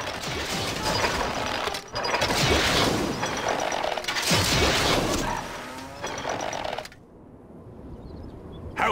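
In the Stronghold Crusader video game, siege equipment is built to busy mechanical clatter of ratcheting, creaking gears and wooden knocks, steady and dense for several seconds before cutting off abruptly into near silence.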